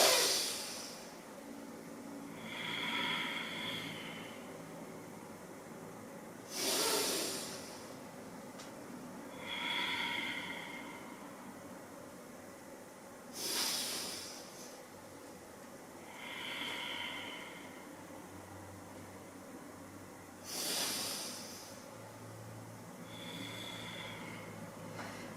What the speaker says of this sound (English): We are breathing.